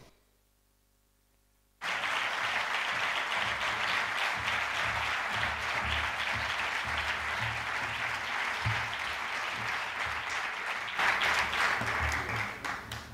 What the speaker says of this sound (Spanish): Recibamos con un fuerte aplauso a los presentadores de esta velada, Antonio J. Jiménez y María José Pacheco.